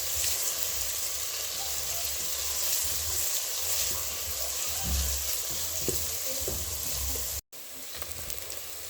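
Onions fry and sizzle steadily in a pan on the stove, a constant close hiss with soft scraping and stirring knocks underneath and a brief cut near the end.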